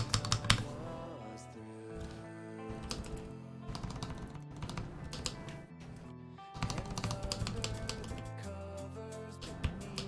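Typing on a Duck Unicorn mechanical keyboard fitted with GMK Eclipse keycaps, a steady run of close, crisp keystroke clacks at varying speed, with a short pause midway before the typing resumes.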